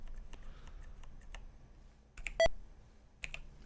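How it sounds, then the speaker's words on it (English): A short electronic beep rings out from the computer game Dark Queen of Krynn, standing out once over a quiet bed of soft clicks and faint background hum, with a couple of fainter blips around it. "And some beep."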